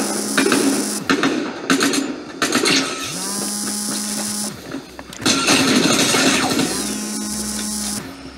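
A motorboat engine in the Fortnite video game revs and accelerates in repeated loud bursts, with a steady droning tone between them and sharp clattering game effects.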